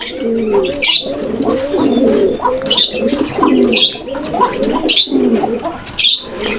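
Male pigeons coo repeatedly nearby in soft, throaty rolling calls, overlapping one another with occasional sharper chirps in between.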